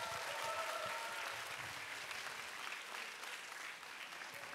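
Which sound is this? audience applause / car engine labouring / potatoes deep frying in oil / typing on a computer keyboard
audience applause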